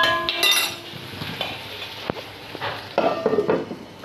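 A lid is set on a cooking pot holding a kadhi spice mixture steaming in oil, giving several metallic clinks and knocks spaced over a few seconds, close by, with a faint sizzle underneath.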